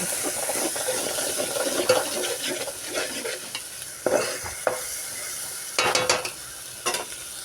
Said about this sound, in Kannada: ಉಪ್ಪು ಖಾರ ಅರಶಿನ ಪುಡಿ ಚಲೋತ್ನಾಗ ಫ್ರೈ ಮಾಡೋಣ